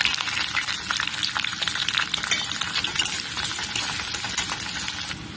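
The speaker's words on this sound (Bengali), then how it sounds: "পেঁয়াজটা দিয়ে এক মিনিট মতন আমি ভেজে নেব" Chopped onion hisses and crackles in hot oil with browned garlic for a masoor dal and Malabar spinach dish, a dense, lively sizzle with occasional utensil scrapes, close and fairly loud with no voices.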